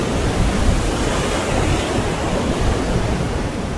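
Broadband ocean surf washes continuously against a rocky coastline along South Africa's Garden Route, steady and loud with no distinct breaks or voices.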